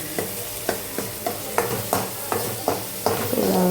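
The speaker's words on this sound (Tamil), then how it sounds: "கரண்டி வச்சு இப்படி அழுத்தி அமைத்து இது பண்ணுங்கள்" Onions sautéing in a pan for sambar are pressed and mashed with a ladle, giving about eight evenly spaced scraping thumps over a steady soft sizzle, close and alone.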